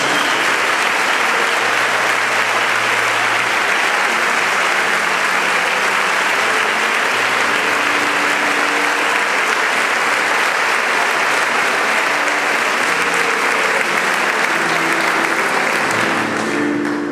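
A church congregation applauds the Lord during a Tuesday night worship service, a broad sustained roar of clapping that holds steady and loud throughout, with faint voices calling out beneath it.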